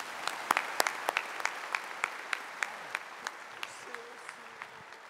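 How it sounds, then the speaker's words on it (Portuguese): A congregation at a Catholic Mass gives brief applause, followed by a run of sharp, evenly spaced single claps that carry on steadily and fade slightly, with a faint low tone underneath. "Vamos aplaudir a palavra"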